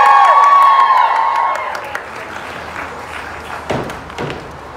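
A rally crowd at a youth climate strike gives a short burst of applause and cheering that fades within two seconds, followed by scattered thumps and light handling noise.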